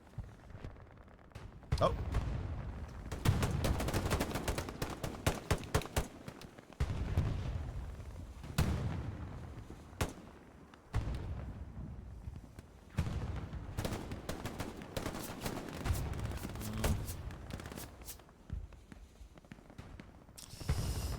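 Hell Let Loose gunfire on the Stalingrad map: rifle shots and bursts of automatic fire crack in irregular clusters, some near and loud, others distant, with a voice talking over much of the action.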